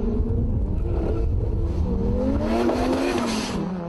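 Turbocharged Toyota Supras roar hard under acceleration in a drag race, a loud, continuous engine note with rising pitch as they pull away, close and steady throughout.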